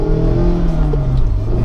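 A deep, throaty sports car engine, from a 2016 Miata or Subaru STI, growls up close, rumbling low and steady with a slight rise in pitch.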